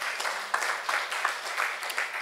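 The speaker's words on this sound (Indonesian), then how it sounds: "Tepuk tangan untuk Tuhan." Applause from a church congregation during a Sunday worship service, a steady patter of clapping at a fairly soft level with faint rhythmic surges.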